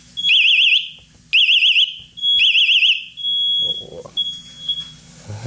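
A home smoke detector's fire alarm shrieks in three loud, warbling bursts with short gaps, followed by fainter steady electronic tones and faint background noise.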